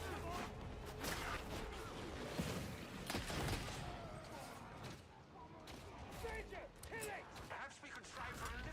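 Heavy gunners firing in a Warhammer-style video game battle, a continuous roar of overlapping gunfire, blasts and clatter, with voices talking over the fighting throughout.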